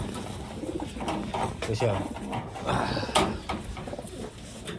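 A female racing pigeon coos softly and close by in low, rolling calls, under someone speaking over them.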